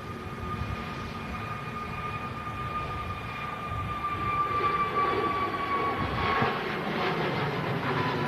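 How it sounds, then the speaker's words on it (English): An EasyJet Airbus A320neo departs Manchester Airport, its engines a steady, loud broadband roar with a whining tone on top, swelling slightly as the jet climbs away. "EasyJet. A320neo departing."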